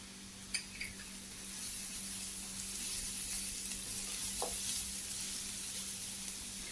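Ginger, garlic and turmeric sautéing in a pan for masala pasta: a faint, steady sizzle that swells after a couple of light clinks, over a low background hum.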